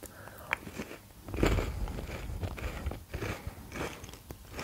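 Crunchy Ovomaltine Swiss chocolate is bitten and chewed close to the microphone, giving irregular crackling crunches with one louder bite near the middle, heard alone without talk.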